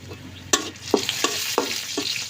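Bay leaf and lentil tempering sizzling in hot oil, a series of sharp spattering bursts about every half second over a low steady fry, close and fairly loud, no talk.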